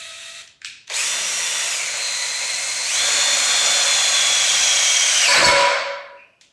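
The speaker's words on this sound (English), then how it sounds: "Okay, got my holes drilled, 6 holes drilled on this side." A power drill bores holes in metal for ladder levelers, a loud steady whine that starts after a couple of short bursts, rises in pitch partway through, then spins down to silence near the end.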